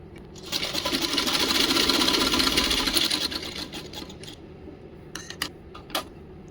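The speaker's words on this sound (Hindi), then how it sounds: "अब ऐसे मोड़ते हुए पहले सिलाई लगा लेते हैं नीचे से" A sewing machine stitches the folded hem of a lehenga, its rapid mechanical whirr swelling for a few seconds and then trailing off into short, separate bursts of stitching near the end.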